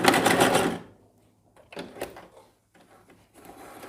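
A sewing machine stitches a straight skirt and then backstitches, with a loud burst of rapid needle clatter followed by a pause and shorter, quieter runs of stitching.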